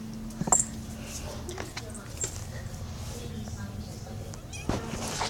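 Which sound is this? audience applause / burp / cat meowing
cat meowing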